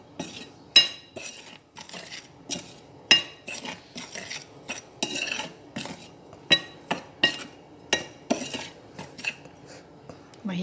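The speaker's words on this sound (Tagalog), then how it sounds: "Wala akong mixer dito, kaya mano-mano ito eh." A metal utensil clinks and scrapes against a bowl as banana cake batter is mixed by hand, in irregular close strokes with sharp knocks between quieter stirring.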